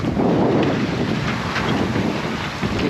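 Strong wind buffets a sailboat at sea, a loud, steady rushing roar with gusty swells and no voices.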